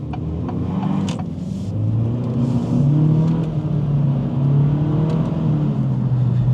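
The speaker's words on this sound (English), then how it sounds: "as you heard there, a lot of wheel spin in the inner wheel on the left there" A 2024 Acura Integra A-Spec with no front limited-slip differential accelerates hard, its engine droning loud and steady from inside the cabin while the inner front wheel spins, with a few brief higher whirs over the top.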